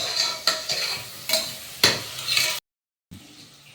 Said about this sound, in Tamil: வெங்காயமும் பச்சை மிளகாயும் போட்டு வதக்கிடுவோம்